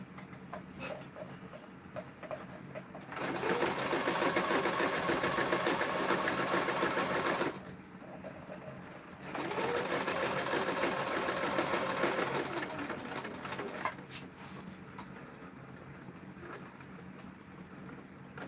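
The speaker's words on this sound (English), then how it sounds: "This is where you do the reverse stitching." Sewing machine stitching a bracelet, running in two sustained bursts of steady motor whir with a brief pause between, quieter handling in the gaps; no talking.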